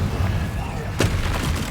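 A single short, sharp blast from the Confringo fire spell in Hogwarts Legacy bursts out over a steady bed of background game sound.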